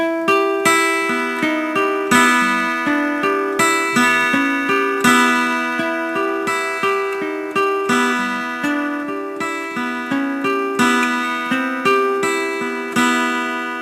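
Electric guitar plays the riff from a song with open strings ringing, a repeating pattern of sharp plucked notes and chords in a steady driving rhythm, loud and alone for about fourteen seconds.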